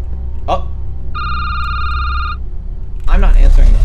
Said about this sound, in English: I'm not answering the phone.